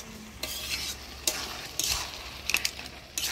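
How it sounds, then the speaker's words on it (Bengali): A fish head is stirred into bottle gourd curry in a pan, giving intermittent scraping and clattering stirs over a faint background sizzle. "মাছের মুড়াটা দিয়ে ভালো করে নাড়াচাড়া করে নিলাম।"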